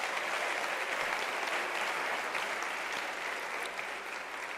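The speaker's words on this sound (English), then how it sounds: "Can we give him a round of applause?" Sustained applause from a large audience fills a university graduation ceremony, honouring a doctoral graduate; dense, steady clapping holds throughout with no voices over it.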